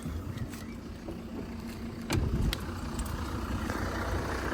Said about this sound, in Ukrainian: Зараз покажу, як працює двигунчик.